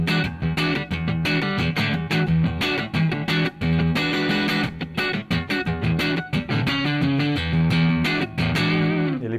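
Electric guitar played through a Zoom G1Four multi-effects pedal set for a blues tone, with driven, slightly distorted notes and quick picked phrases, busy and continuous, loud and up front with no voices.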